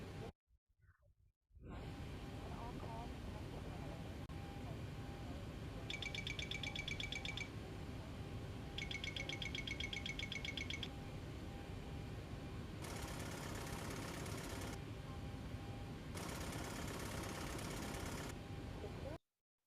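In a Boeing 737 cockpit, the Mach airspeed warning clapper sounds as a loud, rapid rattling in several bursts of a second or two each, with continuous cockpit noise underneath.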